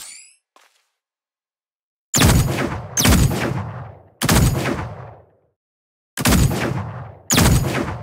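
Gunshots in the mech battle royale video game Super Mecha Champions: a faint squeal at the start, then five loud booming shots spaced about a second apart, each with a decaying rumble tail, no talking.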